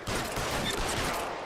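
Gunfire in L.A. Noire during a chase, a brief burst of rapid shots at moderate loudness over a dense, rumbling game background.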